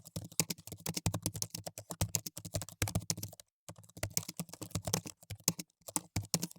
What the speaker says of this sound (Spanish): El sonido de botones siendo presionados con fuerza resonaba por la habitación.